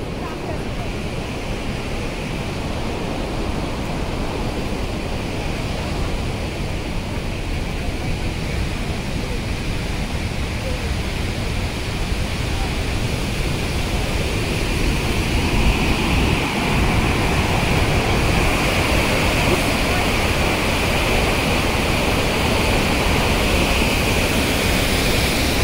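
Randha waterfall at Bhandardara roars in full flood, a dense, steady rush of falling water that holds loud and continuous throughout, swelling slightly in the second half.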